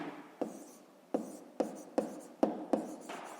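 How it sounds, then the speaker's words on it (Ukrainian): Pen strokes scratch across paper while someone writes out a math exercise, about six short, distinct scrapes spaced unevenly, close and fairly quiet, with no voice over them. "Так і запишемо."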